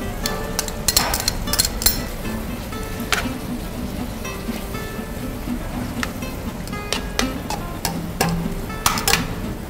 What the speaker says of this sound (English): Now to add the concassé tomatoes.